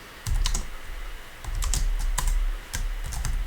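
Typing code on a computer keyboard: quick clusters of crisp key clicks and taps close up, with short pauses between bursts and no voices.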